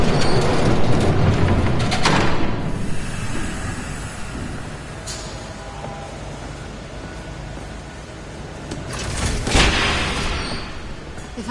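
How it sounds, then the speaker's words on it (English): Train rumble from the Batman Telltale Series game, a broad roaring wash that swells loudly at the start, eases through the middle and surges again near the end, with brief rushing bursts. "There's a train coming."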